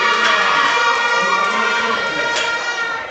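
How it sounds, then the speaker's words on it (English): A dense crowd roars and cheers at a powerlifting championship in Grand Cayman after a successful lift, a loud sustained wash of voices that slowly fades toward the end. "Crowd's going crazy."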